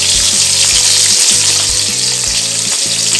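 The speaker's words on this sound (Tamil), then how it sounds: "வெங்காயத்தையும் பூண்டையும் போட்டுடலாம். அதையும் கொஞ்சம் வதக்கியாச்சு." Onion and garlic sautéing in a pan for ridge gourd chutney: a loud, steady, close frying hiss runs throughout, with a regular thumping stir rhythm about twice a second underneath and no talking.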